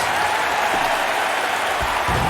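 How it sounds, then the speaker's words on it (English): Crowd in the basketball video game NCAA March Madness 08 cheers and claps as a dense, loud, continuous roar that fills the whole moment, with no talk over it. "Listen to the crowd."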